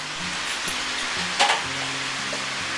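A steady, hissing sizzle of boiled rice noodles frying in a hot pan, with a short clatter of stirring partway through.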